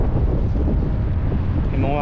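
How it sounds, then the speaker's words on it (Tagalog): Strong wind on a beach where clams are dug blasts straight into the microphone, a loud continuous low roaring buffet with no pause. "Pasensya na po sa lakas ng hangin."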